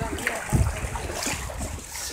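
Water splashes as someone wades on foot between islands at low tide in Thailand, with soft irregular sloshes, one stronger splash early on, and a light wind in the background.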